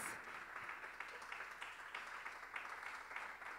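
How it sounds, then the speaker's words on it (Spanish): Audience at a state music composition award ceremony applauding, a continuous, fairly distant wash of clapping that holds steady throughout without any voices. "hoy reciben ese aplauso de todas y todos ustedes"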